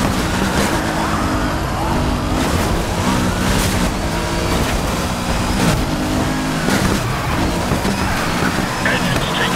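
A BMW racing through a police hot pursuit in NFS Heat, its engine revving and shifting loudly while sirens wail around it and radio chatter plays over the action.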